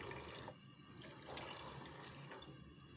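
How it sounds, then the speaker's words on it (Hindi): Two cups of water poured into a pan holding mash and chana lentils, a steady broadband splashing and gushing that continues for about three seconds with small surges, fairly close and with no talk over it. "माश और चने की दाल को मैंने एक पैन में डाल दिया है और साथ ही में 2 कप पानी भी डाल दूँगी"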